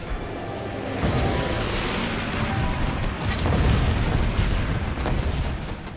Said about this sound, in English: And now let's do some bombing over here.